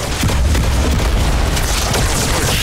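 A Brute Shot grenade explosion in Halo 2: a loud, dense, booming blast with a sustained rumbling roar that fills the whole moment, up close and without talk.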